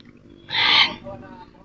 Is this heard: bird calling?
yes